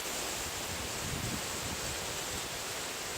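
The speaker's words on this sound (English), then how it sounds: "Oh, there's some more wind." Hurricane Lane wind roars outside as a steady broadband rush, loud and continuous with a brief low gust swelling near the middle, no voices present.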